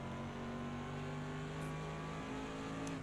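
A race car in the sim racing game Project Cars 2 accelerates. The engine note climbs in steady harmonic tones, drops briefly at a gear change, then rises again, fairly faint with no talk over it.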